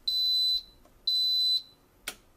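An Instant Pot pressure cooker gives two long, loud electronic beeps of equal length with a short gap between them, then a brief click, with no talk over it.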